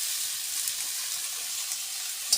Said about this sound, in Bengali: ভালো করে কষে দেবো